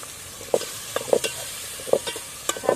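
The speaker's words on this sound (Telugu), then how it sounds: "టమాటా గ్రేవీ వేస్తున్నాను." Tomato gravy poured into a pan of chicken-feet curry and stirred, with a soft steady sizzle broken by sharp, irregular spoon scrapes and clinks against the pan.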